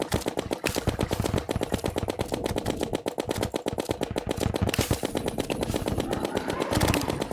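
Rapid, steady weapon fire rattles continuously in Terraria, a dense machine-gun-like stream of loud, evenly spaced shots.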